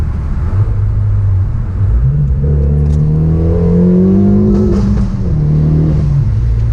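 A Renault Megane hot hatch accelerates hard through a tunnel, its engine note climbing steadily in pitch with a loud, close, echoing roar and a continuous rumble underneath.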